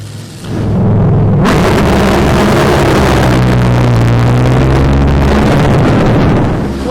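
Drag racing cars launch off the line at a national event, a sudden roaring blast of engine noise that swells after a brief quiet start and stays loud and sustained.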